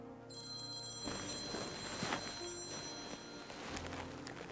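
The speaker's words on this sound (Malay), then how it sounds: "Encik Razman telefon" An office telephone rings, a thin electronic tone sounding steadily over a busy, noisy room background before fading out.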